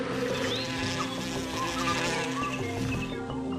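A dense swarm of bumblebees and honeybees hums in a close, continuous buzz that holds steady throughout with shifting individual whines.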